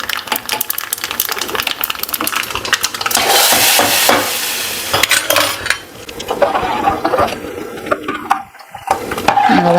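Tempering of spices poured into boiling dal curry, with a burst of sizzling and clattering pans and utensils, uneven and close, fading into quieter kitchen clatter and stirring toward the end.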